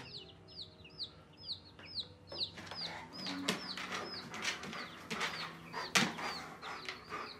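Chickens cluck and chirp repeatedly at close range, a steady series of short calls over a light background murmur of other birds.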